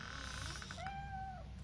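A cat in a Robocop: Rogue City video game scene gives a single drawn-out meow, near and clear over a low steady background hum.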